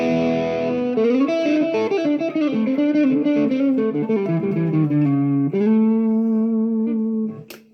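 Clean electric guitar, a Squier Affinity Telecaster Deluxe on its neck pickup, with a warm, round tone, a melodic phrase of sustained notes ringing out, then ending with a brief scrape.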